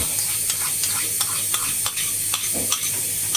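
Raw mango warming in a pan is stirred for a Bengali mango kheer, with a steady run of light scraping clicks from the spoon over a soft, continuous sizzle.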